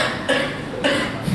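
Two or three short coughs from a man during an evening religious lecture, fairly close and isolated, with a small throat sound at the end.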